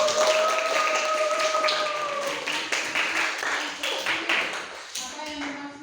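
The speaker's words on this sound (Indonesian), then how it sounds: "Ayo kita berikan aplaus untuk" Children in a primary classroom clap together in a brief round of applause during a lesson, a scattered burst of hand claps that gradually thins out, with a voice faintly underneath.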